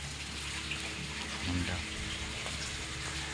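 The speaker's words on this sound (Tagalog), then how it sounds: "Diyan lumalabas ang tubig sa taas. And then pagbaba niya parang falls na siya guys." Water spills steadily over the edge of an infinity pool and falls like a waterfall, a continuous loud rushing wash with a person speaking briefly over it.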